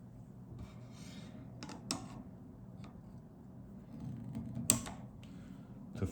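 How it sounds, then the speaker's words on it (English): A knife blade rasps steadily across a PDTools Expert Pro CBN 3000-grit sharpening stone, a quiet, continuous scraping with a few sharper ticks and no speech. "now we will continue with the PDTools Expert Pro CBN at 3000 grit"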